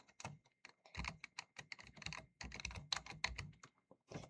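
Quick, uneven clicks of fingers typing on a computer keyboard, close and fairly quiet, in short bursts with small gaps and no talk.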